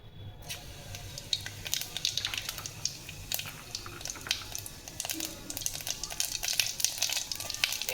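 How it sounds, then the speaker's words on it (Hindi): Cumin seeds hit hot oil in a pan and sizzle with a crackling, spitting patter, the frying noise sharp and close though fairly quiet, popping irregularly throughout. "ये ऑयल मैंने रखा है इसे बनने के लिए। इसमें मैं डालूँगी थोड़ा सा ज़ीरा"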